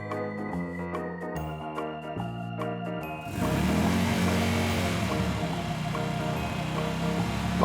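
A jet ski engine is throttled up, a loud, rough, sustained roar rising out of earlier tonal music and holding steady to the end.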